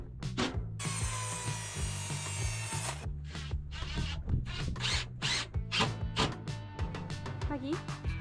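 Wood battens being sawn to size on an off-grid homestead build, heard as a steady rasping stroke early on, then irregular scraping and knocks, all under music and other activity.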